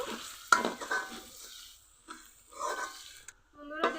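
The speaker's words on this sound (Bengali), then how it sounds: "এখন চামচের ফিট দিয়ে এভাবে একটু পিষে নিব" A spoon stirs and mashes a spinach puri filling mixed with chopped coriander: close, soft scraping and squishing strokes in a few short bursts, with a sharp knock of the spoon near the start.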